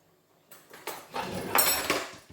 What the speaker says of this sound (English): I'm gonna mix all of this together, rub it up